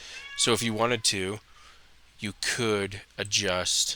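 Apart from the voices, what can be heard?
cat meowing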